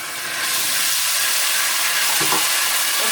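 Ginger and garlic dropped into onions frying in a pan for Sindhi biryani, a steady loud sizzle and hiss with faint stirring scrapes, no talk.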